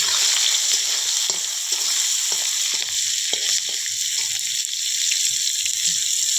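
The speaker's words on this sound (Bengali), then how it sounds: "একটু লালচে করে ভাজবো, তারপর লঙ্কা দিয়ে দিব, পেঁয়াজ কুচি" Fish frying in oil before chilli and chopped onion go in, a loud continuous sizzle with scattered pops and occasional soft stirring knocks, no talk.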